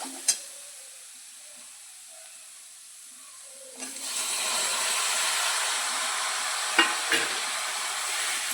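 A soft clunk, then a pan bursts into a steady, loud sizzle as tomatoes are added for tomato soup, with a couple of scraping stirs near the end.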